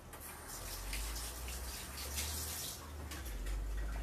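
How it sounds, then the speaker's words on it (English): Hands are rinsed under a running kitchen tap, a steady close gush of water splashing continuously, with no talking. "Rinse my hands off."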